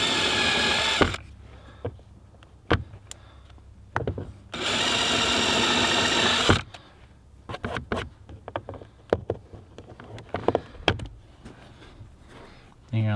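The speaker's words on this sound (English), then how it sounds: "So you want to drill the hole to a 1/4 inch bolt." A power drill bores holes for 1/4 inch bolts in a center console storage panel of a 3rd-gen Toyota Tacoma, sounding as two loud whirring bursts of a few seconds each between stretches of talk and clicks.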